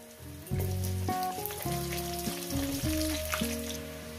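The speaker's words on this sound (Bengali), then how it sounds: "আলুগুলো পুরো লাল লাল করে ভেজে নিয়ে একবার ভাজার মধ্যে সিদ্ধ করে নেবে।" Potatoes fry in fish oil with a constant soft crackling hiss. A melodic instrumental tune plays prominently over the sizzle throughout.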